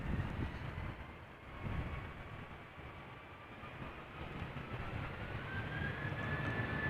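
Airbus A320-200 airliner on a British Airways flight bound for London Heathrow, a steady distant engine roar and whine that rises and falls gently throughout, with no talk.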